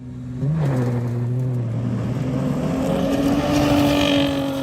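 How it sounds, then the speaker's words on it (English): Rally car engine at a stage event rises from idle into a steady, loud drone with a rising pitch, close by and continuous, with no one speaking. "I can hear cars firing."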